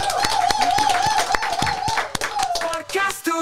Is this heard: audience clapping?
yes